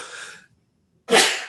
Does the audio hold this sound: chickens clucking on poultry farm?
no